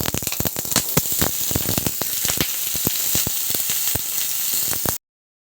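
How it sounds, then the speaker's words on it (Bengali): Eggplant pieces frying in hot mustard oil, a dense continuous sizzle broken by many sharp crackles and spits, close and loud, ending abruptly. "তেলটা যখন একটু গরম হয়ে আসছে তখন আমি দিয়ে দিচ্ছি বেগুনগুলো"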